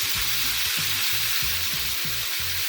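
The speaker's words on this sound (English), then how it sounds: "We're going to cook this ground beef down, just get a little bit of brown on it" Ground beef browns in a pan for chili, a steady broadband sizzle with regular low thumps from stirring, continuous and close with no voices.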